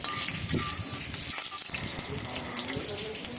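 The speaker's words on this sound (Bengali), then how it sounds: "আমি সরিষার তেল দিয়ে করছি আর দিয়ে দিলাম কিছু কালো জিরা ফোড়ন" Black cumin seeds frying in hot mustard oil in a wok, a steady close sizzle and crackle with a watery hiss running the whole time at a fairly even level.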